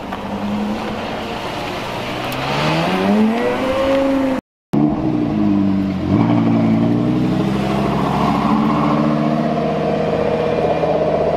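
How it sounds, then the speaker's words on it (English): A McLaren 720S rolls in at a small hypercar charity meet, its engine note rising and falling through revs, loud and close, with a brief cut midway and crowd ambience behind. "now we have a 720S arriving at the scene, rolling in, late but fashionably late"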